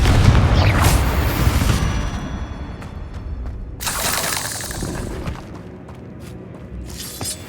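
A Confringo fire spell from the Hogwarts Legacy video game blasts out as a heavy booming crash with shattering debris, followed a few seconds later by a second, weaker blast that fades into scattered crackles.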